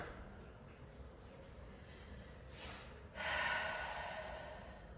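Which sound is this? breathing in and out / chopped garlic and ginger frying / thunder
breathing in and out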